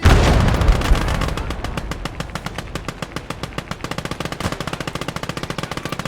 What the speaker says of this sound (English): Throw a shell there. And another one from that artillery.